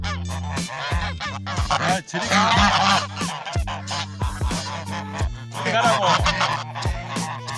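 Several geese honk loudly and repeatedly, nasal calls overlapping in bursts, close by, with no other sound competing.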